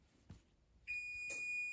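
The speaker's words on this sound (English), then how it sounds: "Oops, there goes my timer." A kitchen timer goes off with a sustained high electronic beep that starts partway through and holds steady to the end, preceded by a couple of faint taps in a quiet kitchen.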